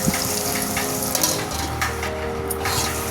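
Potatoes frying in oil in a pan for a Telugu tomato-potato curry, giving a steady close sizzle with faint stirring ticks and a low hum running throughout, no voices.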